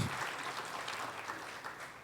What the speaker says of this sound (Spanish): Démosle un aplauso a nuestro Señor de gratitud por lo que Él ha hecho por nosotros.